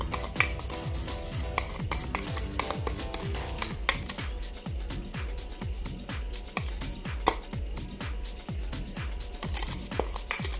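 Sugar gets stirred into a mixture until dissolved, a utensil scraping and clinking rhythmically against the bowl in rapid, evenly spaced strokes, fairly close and with no talking.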